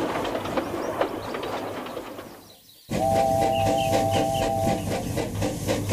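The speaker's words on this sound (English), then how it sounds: "he heard an unknown whistle" A train rolls along with rhythmic clatter, then a sustained steady whistle sounds for about two seconds over the rumble, with birds chirping nearby.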